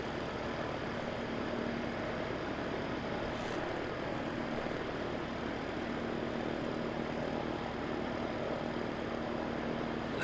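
An Air New Zealand ATR turboprop at Christchurch Airport runs as a steady, moderately distant engine drone, its propeller hum holding evenly with faint tonal lines throughout and no voices.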